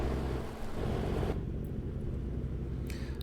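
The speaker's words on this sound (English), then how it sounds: "Oh, maybe the rain's easing off." Rain in American Truck Simulator falls as a loud, dense hiss that cuts off abruptly partway through, leaving only a low engine drone and a faint hint of drizzle.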